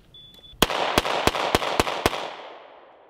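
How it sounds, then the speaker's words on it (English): A Colt King Cobra revolver fires .38 Special rounds in six sharp, evenly spaced shots over about a second and a half, loud and close, with a reverberant tail after the last one. "That was actually a really good shot group. It's easy to do with 38 special."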